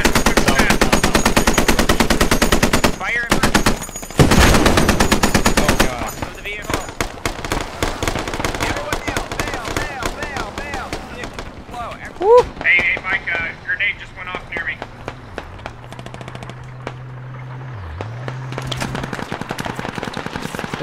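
Heavy automatic and single-shot gunfire in the military shooter game Squad, loud bursts of rapid rattling shots early on, then scattered shots and distant fire under radio chatter and voices.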